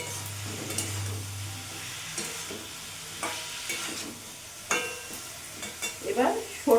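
Fish head curry with vegetables and cumin powder being stirred in a pan, soft sizzling under intermittent scraping and clinking strokes of a spatula, the knocks growing louder near the end.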